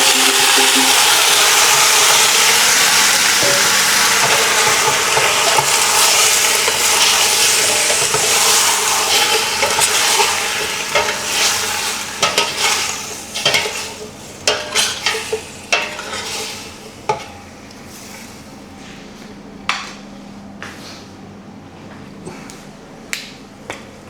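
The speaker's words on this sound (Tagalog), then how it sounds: "Sabay na rin natin guys yung ating fresh chicken na 2 kilos." Two kilos of fresh chicken go into a hot tinola pot, setting off loud sizzling and frying that settles into scattered pops, crackles and stirring clinks as the bubbling fades and grows quieter.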